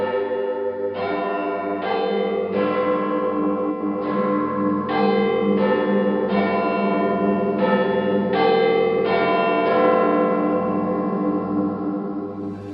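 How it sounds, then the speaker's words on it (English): Big Ben's quarter bells ring the Westminster chimes, a steady sequence of loud, resonant bell strikes about one per second, each ringing into the next and decaying after the final stroke, with no voices. "these levers are pulled in just the right order and timing to create the Westminster chimes"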